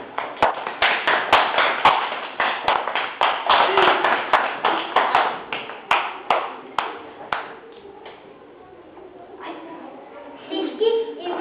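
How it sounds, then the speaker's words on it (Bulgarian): Applause at a Christmas party in 2012 as a group is introduced on stage: a crowd claps in fast, scattered bursts that fade out, with children's voices and chatter rising near the end. "Аплодисменти!"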